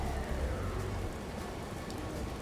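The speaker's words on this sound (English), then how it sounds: "Another cold and rainy day in Newport." Steady rain falling in rainy Newport in the video game Dreamfall: The Longest Journey, a dense, even wash of drops hitting surfaces with a low rumble underneath, continuous throughout with no talking.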